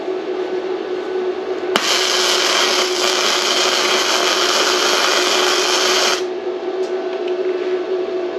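A Bestarc MIG145 MIG welder lays a bead on a 1/8-inch steel piece, its loud, steady buzzing crackle starting abruptly, holding for about four seconds and then cutting off, close by with no talking.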